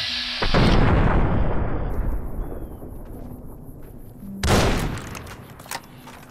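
Gunfire in the video game Fallout New Vegas, a loud close burst of shots with heavy booming decay that fades, then a second sharp blast later, no talking heard.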